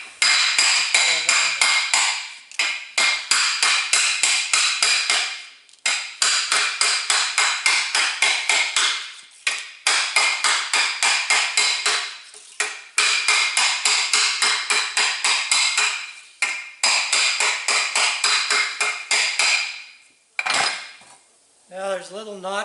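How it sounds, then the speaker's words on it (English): A wooden mallet knocks a metal wing-rib into notched forming dies, making long runs of rapid, loud, ringing metallic taps in bursts with brief pauses between them. "So you take the edge of your mallet and knock it into those marks."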